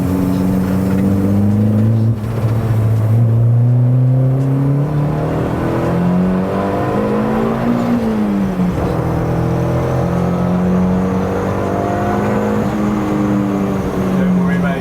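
An unfinished project car is driven on the road. Its engine drones loudly and continuously from close by, with the pitch climbing and falling through gear changes and throttle shifts over about fifteen seconds.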